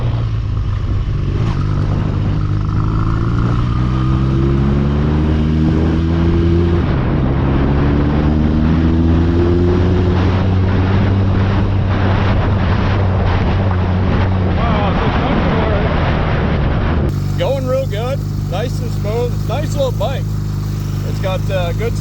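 Motorcycle bought as a non-runner for $250, riding over bumps, with a steady engine drone and shifting pitch as it moves, wind buffeting throughout and a person talking over it.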